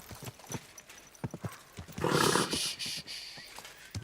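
Horse in the video game Kingdom Come Deliverance 2, hooves clip-clopping in a steady rhythm with a loud neigh in the middle, close and clear.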